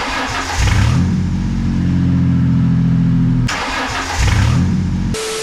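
Toyota Supra with no exhaust fitted, its engine revving loud and close in two long, raw, droning bursts with a brief drop between them, no one speaking.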